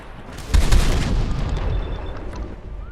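Heavy gunfire in a video game gives a loud booming burst of blasts with a rumbling low-end tail that fades over about two seconds.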